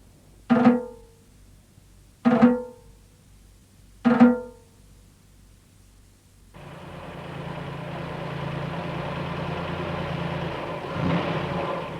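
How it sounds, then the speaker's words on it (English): Farmer Bell's truck in the children's animation Camberwick Green pulls up, arriving as a continuous mid-pitched engine hum that rises in level and holds. Three sharp drum-like hits come first, spaced about two seconds apart. "Farmer Bell's truck arrives just as the Sergeant Major marches to Captain Snort."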